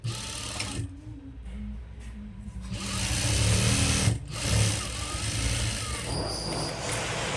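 Sewing machine stitching the pocket of a chudi pant, running in steady bursts with brief pauses between, close and fairly loud, no voices.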